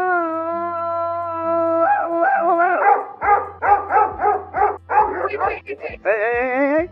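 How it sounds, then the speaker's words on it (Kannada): Dogs bark and growl in The Last of Us Part II video game. Loud rapid barks and yips come in a close, insistent run, ending in a drawn whine over a sustained musical tone, with no speech. "ನಾಯಿಗಳೇ ಹೆಂಗೆ ಸ್ವಂತದವ್ರು ನೋಡಿದ್ರೆ ಗೂಡ್ರಾಕತ್ತೆ"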